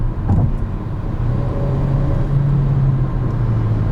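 Turbocharged engine of a 2021 Kia Seltos SX pulling steadily under acceleration, a continuous close rumble and whir with a rising tonal drone, heard from inside the cabin with no talking.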